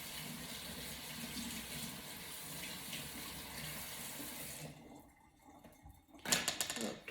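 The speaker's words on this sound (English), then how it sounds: "Let me rinse my brush." Tap water runs steadily into a sink while a paintbrush is rinsed under it, a continuous close splashing that cuts off near the end, followed by a few brief clattering knocks.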